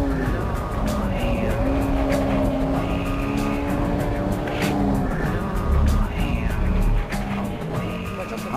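A Honda Civic Type R EK9 engine roars at sustained high revs in third gear, loud and close, with tire noise and brief squeals as it pushes hard through corners on a track.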